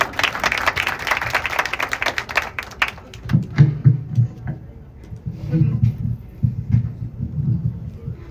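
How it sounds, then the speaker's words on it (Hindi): Applause from an audience, dense clapping that fades, followed by low muffled thumps and talk in a large room. "आपकी तालियों में जैस्मीन आ गई।"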